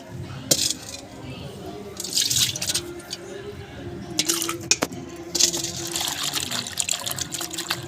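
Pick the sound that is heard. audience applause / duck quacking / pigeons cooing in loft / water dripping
water dripping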